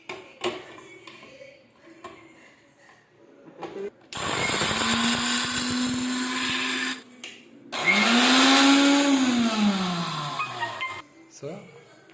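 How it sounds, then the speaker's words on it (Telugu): A mixer grinder with a small jar grinds roasted spices into powder for a fish curry: two loud, steady motor runs, the second with a pitch that rises then falls, separated by quiet moments and some speech. "ఇప్పుడు మనం మిక్సీ పట్టుకోవడానికి చిన్న జాడి సరిపోతుందండి"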